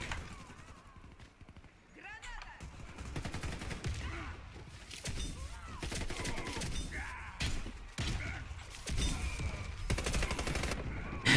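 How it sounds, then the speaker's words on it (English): Rapid weapon fire in the shooter game Warface, bursts of sharp shots and fusillades scattered across the clip, with a player talking throughout. "Reload, because reloading is so important with this weapon."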